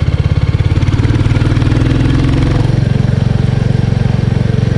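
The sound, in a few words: Royal Enfield 350 Bullet 2024 motorcycle riding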